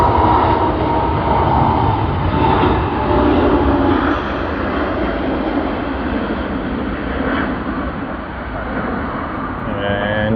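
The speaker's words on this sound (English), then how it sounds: "But I do hear a taxiing aircraft." An aircraft taxis at Sydney Airport, a steady broad jet-engine roar heard from a moderate distance, slowly swelling and easing, with faint background noise.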